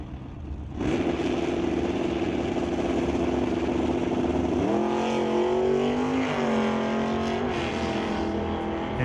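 A Malibu wagon and a 1996 Camaro make a drag race pass. A sudden engine roar cuts in after a quiet start, then holds steady and loud, with rising gear-change sweeps partway through.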